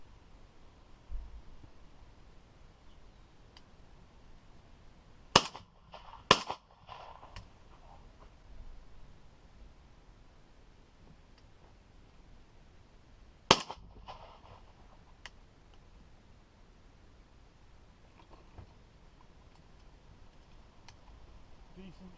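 Shotgun blasts crack out while pigeon shooting over decoys on a bean field: two quick reports close together, then a third after a long pause, each sharp and fairly distant, over faint outdoor background.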